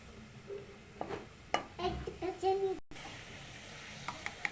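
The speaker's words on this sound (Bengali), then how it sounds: "একটু নাড়িয়ে নেব।" Rice with a bay leaf sizzles and bubbles in a pot while a utensil stirs it in a few scraping strokes, with soft clinks, all fairly faint and close.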